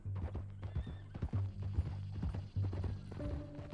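Horse in Red Dead Redemption 2 with a clear clip-clop of hooves at a walking rhythm and a whinny, close and fairly quiet, with no talking.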